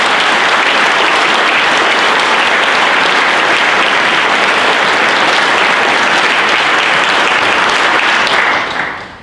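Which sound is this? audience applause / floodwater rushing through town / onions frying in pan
audience applause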